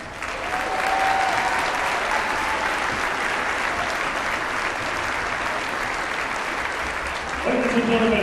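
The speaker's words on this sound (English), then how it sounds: "please join us in one final round of applause" Sustained audience applause for the Mount Vernon Athletic Hall of Fame class at a high school boys basketball game in a gym, a steady loud wash of clapping from a large crowd.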